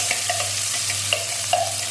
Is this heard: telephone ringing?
no